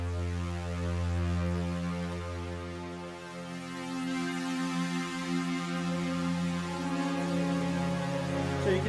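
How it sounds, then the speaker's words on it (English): Big, fat sustained synthesizer chord from Logic Pro's Alchemy instrument, a thick harmonic drone held steadily for about nine seconds with slight swells, heard alone without any voice. "I just want to have this big fat synthesizer"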